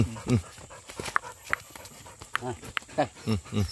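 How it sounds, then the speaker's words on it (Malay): A hunting dog barks in repeated short bursts during a hunt in the countryside around Silancar, Koto Padang Laweh. The barks come in a quick cluster toward the end, with people talking nearby. "lekak tu anjing mah"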